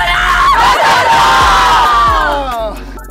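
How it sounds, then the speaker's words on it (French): Team of women firefighters at a national firefighter championship in France shouting a loud group battle cry in unison, a sustained chorus of raised voices that fades at the end. "On a d'autres petits cris de guerre à vous faire si vous voulez."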